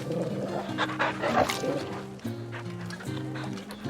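A dog in the video game Final Fantasy XVI gives short barks and whimpers over a melodic game score, while a player talks over it.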